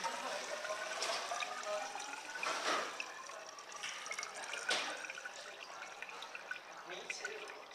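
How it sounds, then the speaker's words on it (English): Water poured into a glass cylinder in a classroom gas pressure demonstration, a continuous close gurgling and splashing stream that rises and falls with a few louder surges, with no talk over it. "we are going to go ahead and fill that with water"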